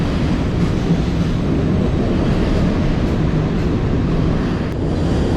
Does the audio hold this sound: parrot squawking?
no